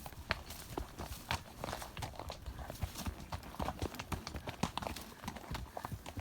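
Horse hooves clip-clop in a steady walking rhythm along the trail up to Grizzly Lake, close and fairly quiet, with faint ambient noise around them.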